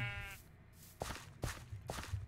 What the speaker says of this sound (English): I'll have 2 red sheep.